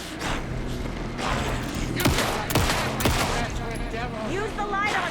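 Gunfire in the Alan Wake II video game, several sharp shots scattered across a few seconds, loud and close, mixed with game noise and effects.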